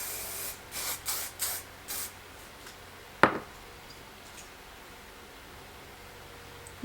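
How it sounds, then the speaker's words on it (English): Hair spray misted over curled textured waves in a few quick close bursts, followed by a sharper single hiss and then near quiet. "So I'm just gonna spray this"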